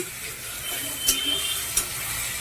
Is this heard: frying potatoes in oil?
yes